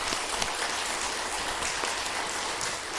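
Church congregation applauding during a worship service, a steady dense wash of clapping from a crowd filling the whole stretch at even loudness.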